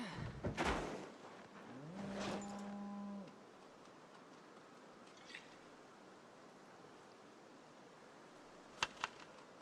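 A farm cow in a survival video game gives one loud, drawn-out moo early on, followed by quiet ambience with a faint click near the end.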